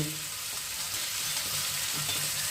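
Loud, steady sizzling of small boneless chicken pieces frying in a hot pan for fried rice, with occasional soft stirring scrapes and no voices.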